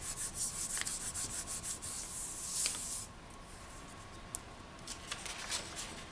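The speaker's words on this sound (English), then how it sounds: "Give that another quick burnish." Polymer clay being burnished by hand, faint close rhythmic rubbing strokes in quick succession, then softer, sparser scrapes and a small tap.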